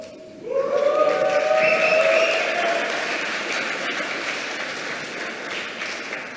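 An audience bursts into applause mixed with cheering and whoops, a sudden loud swell of clapping and raised voices that holds and then slowly tapers off.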